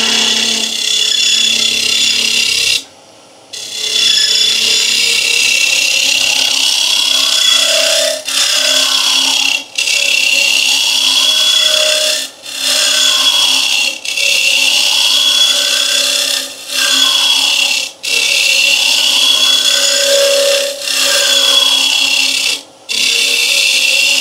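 A wooden open vase spins on a lathe as a tool cuts into it, a continuous bright scraping hiss broken by repeated short pauses as the tool lifts off, close and loud.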